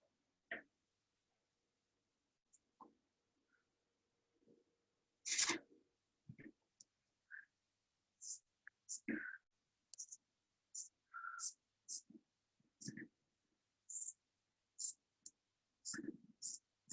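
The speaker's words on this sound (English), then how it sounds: "I'm actually gonna cut off the seam on the side here." Scissors cut the side seam off old stretchy leggings, giving scattered quiet snips and clicks, close and faint, with brief pauses between cuts.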